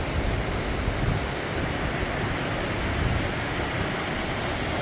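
A small waterfall spills over a rock ledge, giving a steady, even rushing and hissing wash of water that holds at the same level throughout with no pauses.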